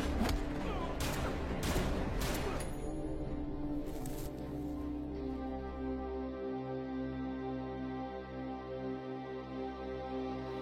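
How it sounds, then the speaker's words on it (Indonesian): Gunfire in a shootout between North and South Korean troops in the disaster film Ashfall: a dense burst of shots at the start, then a low rumbling score and sustained tones fill the rest. "di sini terjadi baku tembak antara pasukan Korea Utara dan juga Korea Selatan"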